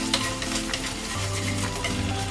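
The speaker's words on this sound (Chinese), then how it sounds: "接下来我们把刚才调好的蕨蕨酱倒进去，把酱的香味炒出来啊" Sauce stir-fries in a hot wok with a dense, steady sizzle, while a spatula scrapes and stirs in quick irregular strokes close by.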